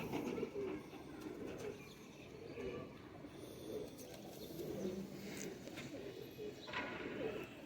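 Pigeons cooing softly at a pigeon keeper's home where breeding pairs and flying pigeons are kept, low murmuring coos repeating steadily under light background noise, with no voices.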